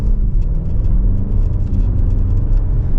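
A 2024 Audi S8 sedan accelerating on a test drive, with a deep, steady engine rumble and road noise filling the cabin at close range, loud and continuous with no talk.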